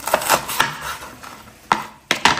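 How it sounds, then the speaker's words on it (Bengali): A knife cuts fried food into thin strips on a board with about six sharp, close, unevenly spaced chopping strokes and no talking. "এগুলোকে এখন চিকন চিকন করে কাটি।"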